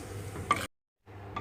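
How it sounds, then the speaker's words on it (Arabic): Thick Bahraini halwa mixture is stirred in a pot, producing soft scraping and sticky, sizzling swishes in two brief bursts separated by a moment of total silence. "استمر في التحريك"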